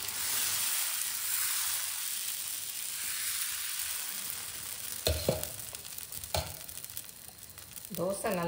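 Kavuni rice dosa batter sizzles on a hot pan in a home kitchen, a steady close frying hiss that runs throughout, later joined by scraping clinks and a voice speaking over it.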